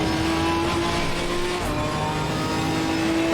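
A steady, loud GT4 race car engine drone in a racing simulator holds a constant pitch throughout, like cruising at speed, with no voices.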